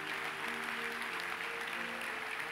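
A church congregation applauds to praise the Lord in a dense, steady wash of clapping that fills the room at moderate loudness for the whole stretch.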